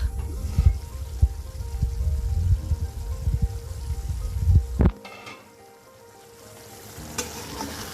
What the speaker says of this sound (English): The posto has been boiling from 5 minutes now.